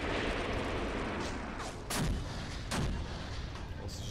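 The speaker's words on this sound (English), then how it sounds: "we can definitely adjust our artillery fire. Those explosions are very damaging, as you can see" Artillery explosions in the war game Graviteam Tactics: Mius Front make a dense, continuous roar, with two sharper, louder blasts standing out midway, and no talking.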